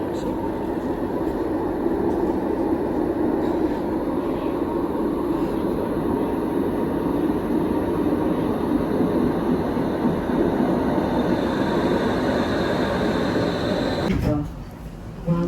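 Steady, loud rumble and hum of a subway train in motion in Canada fills the whole stretch, with a brief clunk and shift near the end.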